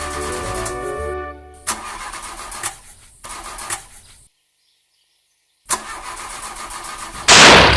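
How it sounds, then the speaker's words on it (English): Lorry engine from the Trainz train-simulator game cranking and catching in uneven bursts, dropping out to a full second of silence, then roaring back louder at the end. "If it weren't for the noise the lorry was making"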